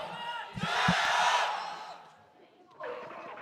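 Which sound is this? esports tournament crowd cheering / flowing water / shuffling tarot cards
esports tournament crowd cheering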